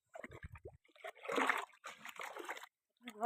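Water poured from a bucket at a riverside splashes and sloshes in a couple of short bursts, with brief voices nearby.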